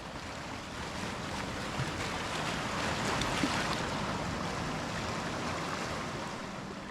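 Sea waves roll onto a Kerala beach known as Hawa Beach, making a continuous broad wash of surf. The roar is steady and fairly even, with a slight swell in the middle and no voices.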